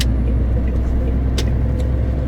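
A truck driving on the road toward an unloading stop, heard from the cab as a steady loud engine and road rumble with a few brief hissing sounds, and no talk.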